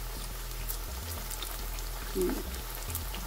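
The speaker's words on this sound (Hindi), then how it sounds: "इसको मीडियम फ्लेम पे तलना है" Potato lacha pakoras fry in oil over a medium flame, giving a soft continuous sizzle and bubbling heard fairly close, with a brief low murmur partway through.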